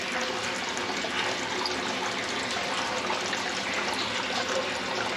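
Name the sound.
thermal water trickling up from spring in Leukerbad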